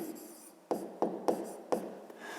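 A pen writing an answer in a notebook, a few short scratchy strokes close up at a quiet level, with no voice.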